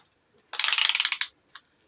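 A small measuring tape being pulled out, its blade ratcheting in a quick, rapid run of close, sharp clicks for under a second, then a single click a moment later, with no talking.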